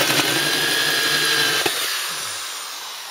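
A power drill boring holes in a Harley-Davidson air box cover with a 22–25 mm bit, a steady close whine running for about two seconds, then cutting off and fading to a quieter tail.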